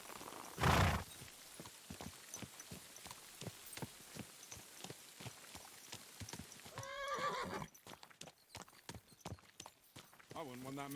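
In a video game, a mare gives a loud whinny partway through, with hooves clip-clopping rhythmically throughout. Someone talks over much of it.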